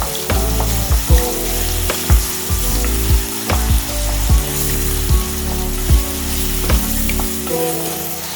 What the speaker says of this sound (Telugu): మిక్సీ పట్టుకున్న ఉల్లిపాయ పేస్ట్ వేయాలి